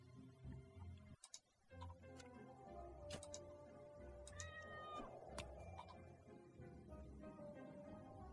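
A cat meows several times in the hidden-object game Clockwork Man: The Hidden World, with soft ticking and chimes of game music running steadily underneath.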